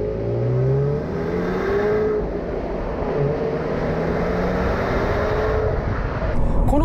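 Subaru WRX STI Final Edition with its EJ20 engine accelerating from inside the cabin, a steady loud engine drone with rising harmonic tones through gear pulls, continuous and close, with a brief shift near the end.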